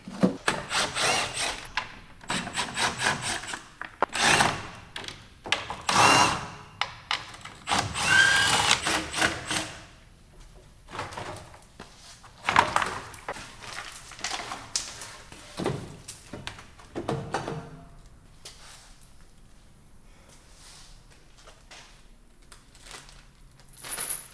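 Plastic trim is pulled off the front of a totaled Dodge Ram 1500 truck, giving irregular close clatters, knocks, snaps and rubbing noises separated by quieter pauses.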